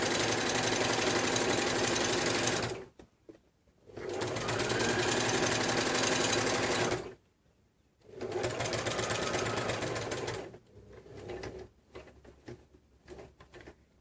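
A sewing machine stitches binding onto fabric in three long, steady bursts of loud, fast whirring, each broken by a short silence, ending in a few softer taps.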